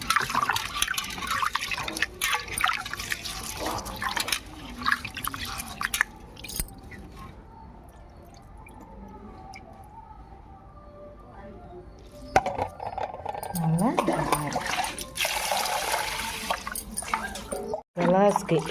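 A quarter kilo of basmati rice being washed in water for curry leaf rice, wet swishing and sloshing of grains that starts and stops in bursts, with a quiet stretch in the middle and someone talking over it.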